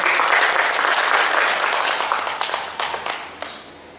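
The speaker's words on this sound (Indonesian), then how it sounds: "Kita beri aplaus dulu untuk beliau" An audience at a teachers' session claps steadily after a presenter finishes speaking. The applause is dense and sustained, then thins out into a few scattered claps near the end.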